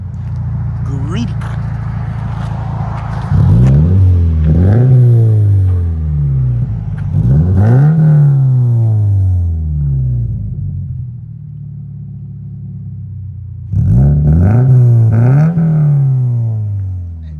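A 2013 Scion FR-S with a 2.0L engine and GReddy aftermarket muffler over a stock resonator revs loudly in three sharp bursts, each rising and falling over a steady deep idle rumble, close up.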